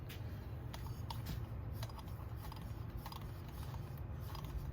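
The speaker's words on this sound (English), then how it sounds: "maybe I can get my Allen wrench on there" An Allen wrench turns a bolt during assembly of a Husqvarna 371 XP chainsaw, giving faint, close metallic clicks and small ratcheting ticks over a low background hum, with no talk.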